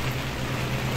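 Steady rain falling outdoors on a small island park in New York City, an even wash of drops hissing close by with a low constant hum beneath, no talking.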